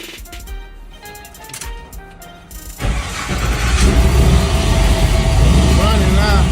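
An LS3 V8 in a 1972 Chevrolet Impala cranks and fires up partway through, settling into a loud, steady, rough idle close by after a quieter stretch of clicking and ticking, with someone talking over it.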